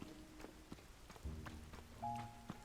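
Rain patters in The Legend of Zelda: Tears of the Kingdom, scattered drops tapping faintly on surfaces, with a low rumble and a few thin tonal game chimes.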